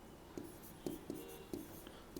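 Chalk writing on a board during a chemistry lecture on redox reactions, a series of short, sharp taps and strokes at an uneven pace in a quiet room, fairly close and alone.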